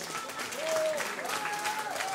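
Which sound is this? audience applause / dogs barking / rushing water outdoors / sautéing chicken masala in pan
audience applause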